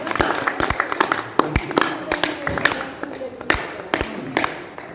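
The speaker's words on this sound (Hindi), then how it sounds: "सर कृपया जोरदार ताली।" Sharp, scattered claps break out in a room at a teacher's retirement party, brief bursts of applause mixed with thumps and a voice talking over them.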